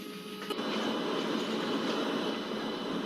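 Express passenger train running on the Western Bay route, heard from an open coach door: a steady, loud rumble and rush of wheels and wind, continuous throughout with no talk.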